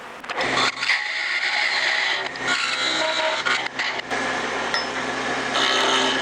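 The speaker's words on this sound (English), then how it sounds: "I need a 3/8 inch tenon to fit right in here. And for that, I'm going to be using my" A tenon cutter shaves a 3/8 inch tenon on a wooden candlestick for a Christmas tree ornament, producing a continuous rough grinding rasp that falters and surges in short bursts, close up with no talking.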